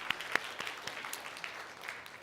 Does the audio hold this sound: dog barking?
no